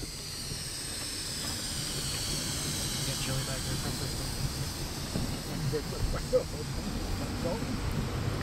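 A long, steady hiss of air rushing as a train's air brakes are pressurized behind an EJ&E SD38 locomotive, droning on at moderate loudness with a low rumble beneath.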